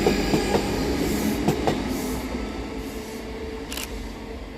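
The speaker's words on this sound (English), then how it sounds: "Taking us by surprise on platform 3 is 334020 and 334005 with the 1857 Scotrail service from Edinburgh Waverley to Garscadden." A ScotRail Class 334 electric multiple unit pair at Edinburgh Haymarket station rolls past with a steady rumble, rhythmic wheel clicks over rail joints and a brief higher squeal, loud and close, with no voices.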